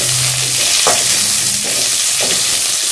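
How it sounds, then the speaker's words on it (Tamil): Oil frying and stirring in a pan for a curry leaf tamarind curry, a loud continuous sizzle close up with three scraping stirs of a spoon, no talk. "இது கொஞ்சம் எண்ணெய் ஊற்றிக்கலாம். எண்ணெய் நல்லா வறுத்துக்கலாம்,"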